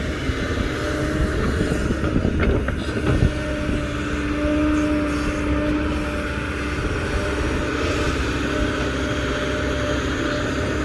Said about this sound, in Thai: เสียงเครื่องยนต์นิ่ม ครับ